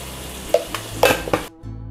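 Shrimp sizzle in a hot frying pan while a utensil stirs and knocks against the metal several times, with the sizzle cutting off abruptly near the end.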